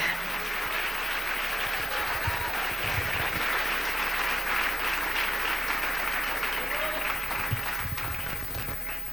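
Sustained applause from a church congregation during a sermon, steady and full throughout, fading slightly at the end.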